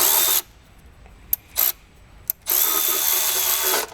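A power driver whirs in two long bursts, separated by short stuttering pulses, as bolts are tightened into the plastic lower intake manifold of a Jeep Cherokee's 3.2/3.6 Pentastar engine, loud and close.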